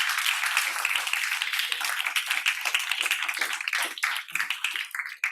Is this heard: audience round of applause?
yes